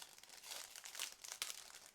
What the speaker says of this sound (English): Next we have small plastic bag with clear elements, so I'm going to open it